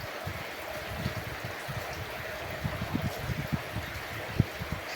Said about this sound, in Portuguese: Só escutando a água cair